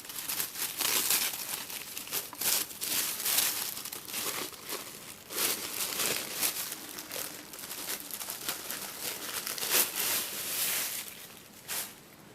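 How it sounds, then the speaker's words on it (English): Tissue paper being crumpled and torn while unboxing a Johanna Basford coloring book, a run of close, crisp crackling bursts with brief pauses between them. "Completely going against my no ripping policy, but tissue paper is really difficult"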